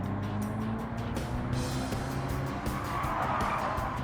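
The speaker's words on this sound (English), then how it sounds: "Oh, drifting, yeah." Hyundai Ioniq 5 N electric car drifting in Gran Turismo 7, with steady tire squeal and skidding over a continuous engine-like drone, loud and constant throughout.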